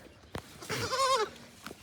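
A single close, loud bleat from a sheep rises and wavers for about half a second, framed by small knocks and rustles around it.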